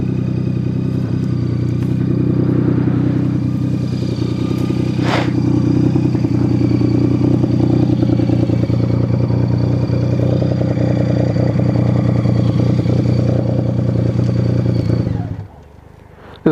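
Motorcycle engine running steadily while riding, loud and close with a constant low drone and some clatter for about fifteen seconds, then cutting off abruptly near the end.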